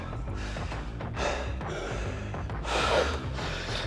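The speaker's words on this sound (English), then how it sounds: "You know it's a hard set when the spotters are breathing." Heavy, gasping breaths after a hard leg set in a gym, close to the microphone, with loud exhalations swelling twice and a sigh between them.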